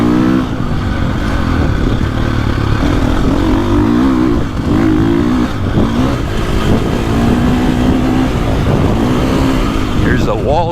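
A Husqvarna FC350 dirt bike runs on a bumpy, rutted motocross track, its engine droning steadily with rising and falling revs as the rider throttles through the chop, close and continuous for about ten seconds.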